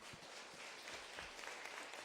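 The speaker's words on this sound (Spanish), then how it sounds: "Un fuerte aplauso, claro que sí" Audience applause at a cultural promotion panel discussion, a steady wash of clapping throughout with some low thumps, moderately distant and fairly quiet, no voices over it.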